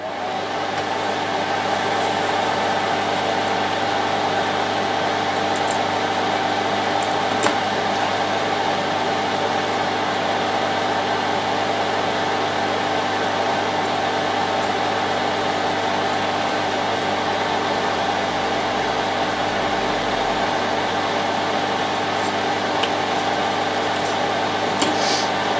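A fume extractor runs at a soldering bench during a Hoover UNP252A cordless vacuum battery pack repair, giving a steady, loud fan whir with a constant tonal hum that holds unchanged throughout, close and alone.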